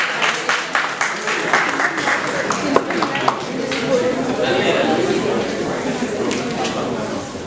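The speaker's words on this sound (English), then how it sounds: "Please give a huge round of applause to team member and director sir." A crowd claps loudly and steadily, a dense wash of applause that holds throughout with no clear talking.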